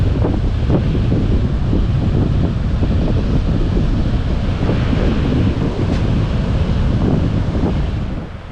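Sea waves roaring with strong wind buffeting the microphone on the shore of Shah Porir Dwip, a loud continuous rumble with no voices.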